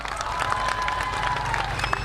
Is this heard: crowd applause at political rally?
yes